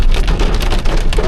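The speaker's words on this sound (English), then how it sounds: "We're in the middle of a hailstorm," Hail pelts down hard in a hailstorm at Glacier National Park, a loud, close, dense clatter of pellets hitting surfaces in rapid irregular bursts across the whole moment.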